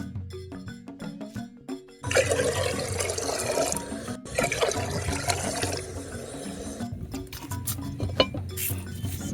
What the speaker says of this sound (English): So just to get some of the extra starch out of the rice, I'm going to add in some hot water.